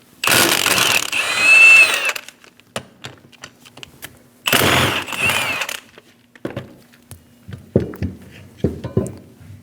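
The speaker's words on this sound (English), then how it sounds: "Using an 18mm socket, remove the 2 caliper bolts." An 18mm socket ratchet works the brake caliper bolts on a 2001-2006 Chevrolet Silverado 2500 HD, giving two long bursts of rapid clicking ratchet action followed by scattered metallic clanks and taps, close and loud.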